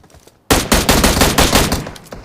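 A sudden burst of rapid automatic gunfire in PUBG Mobile, loud and close, with a string of evenly spaced shots that starts abruptly after a quiet moment and continues to the end.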